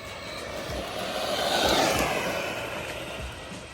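Arrma Senton RC truck with its electric motor on a 3S battery, a steady whirring drone that swells and fades as it speeds past at quarter throttle, fairly loud and continuous with no talking.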